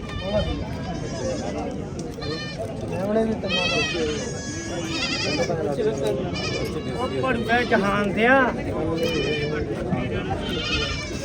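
Goats bleat repeatedly, loud and close, in wavering cries while people talk over them.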